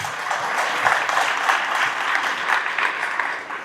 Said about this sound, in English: Let's give a clap for that.